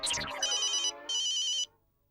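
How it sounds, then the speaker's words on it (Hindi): A phone rings with a bright electronic ringtone, two bursts of repeating tones with a short gap between, loud and close, then silence. "अरे भिडे भाऊचा फोन"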